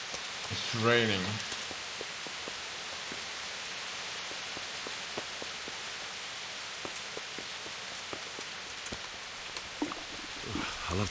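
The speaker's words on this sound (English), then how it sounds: "It's raining." Steady rain in the medieval video game Kingdom Come: Deliverance, a soft, even hiss of falling drops with faint patters that continues throughout without a break.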